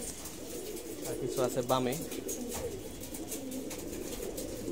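Male racing pigeons, let out after four or five months, sit on a rooftop under a shelter and give a brief run of soft cooing near the start, with someone talking over it.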